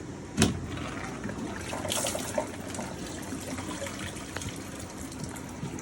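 Steady low rushing and trickling of water draining from a water filtration unit, faint and continuous, with a brief knock near the start.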